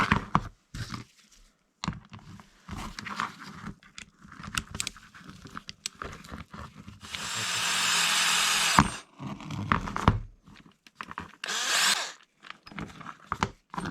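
A 10mm socket removing a nut from an Arrma Outcast 8S 1/5-scale RC car, with scattered clicks and scraping handling noises, plus a sustained whirring burst of tool noise and another shorter one later.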